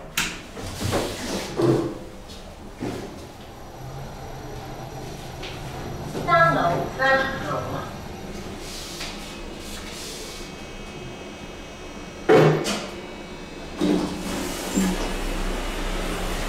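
A full-glass Kone EcoDisc MRL traction elevator at a Beijing airport lounge: door panels slide shut with soft thuds and clunks, followed by a quiet hum of the ride, with a few sharp mechanical knocks along the way.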